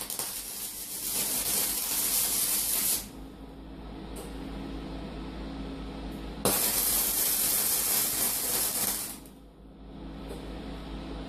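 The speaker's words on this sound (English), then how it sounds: "I'm just tacking it into place for welding." Tack welding on a steel kitchen bench worktop frame held with welder's magnets, with two long bursts of harsh, steady crackling hiss separated by short pauses, close and loud.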